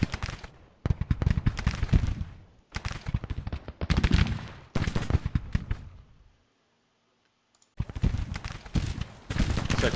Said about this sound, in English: Looks like we've got our guns opening up now.